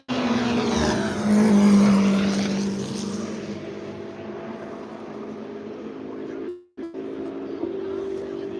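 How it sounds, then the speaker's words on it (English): A yellow Ford Mustang race car roars past at Le Mans. The loud engine note climbs and then fades into a sustained drone, breaks off briefly, and returns as more distant engine noise. "that yellow Mustang sounds phenomenal"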